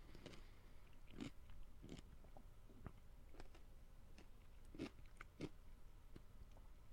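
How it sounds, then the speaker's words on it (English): A pickle is chewed close to the mic, soft wet crunches and bites in an irregular rhythm, faint and intimate, with no talk over it. "where I just chew a pickle in your face"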